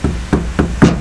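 A hammer taps a rubber window seal into place on a VW Rabbit pickup's rear safari window. Four sharp, close, fairly loud knocks land in about a second, evenly spaced, with the last one the heaviest.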